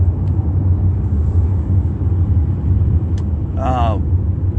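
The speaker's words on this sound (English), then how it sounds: "I'm sitting here in the car driving" Low steady engine and road rumble inside a moving car, close and continuous, with a short faint high chirp near the end and no clear talk.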